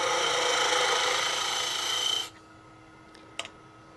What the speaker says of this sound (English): Spindle gouge will actually bore a nice hole.